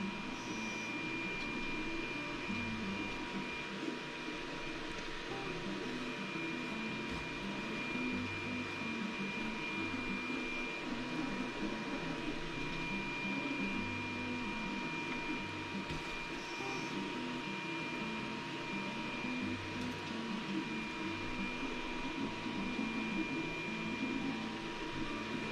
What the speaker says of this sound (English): I've got a 3D printer going in the background